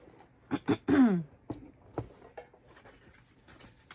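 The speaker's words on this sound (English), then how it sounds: "Let me clear my throat." A person clears their throat with a couple of short rough bursts and a gravelly rasp, followed by faint quiet rustling.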